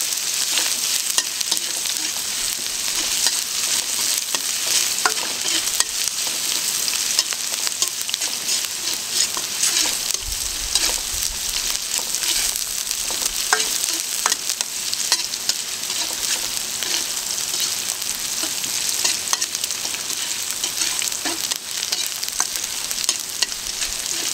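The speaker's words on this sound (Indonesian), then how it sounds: "kita tumis, tumis sampai dengan harum" Aromatics stir-fry in a pan for a spicy honey fried chicken dish, a loud continuous sizzle with scraping stirs throughout and no talking.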